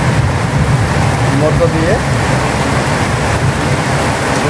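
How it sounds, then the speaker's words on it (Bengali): Heavy rain pours steadily outside a house, a dense continuous hiss close by, with a voice talking over it; no distinct thunder crack stands out. "প্রচুর বৃষ্টি হচ্ছে এবং বিদ্যুৎ চমকাচ্ছে"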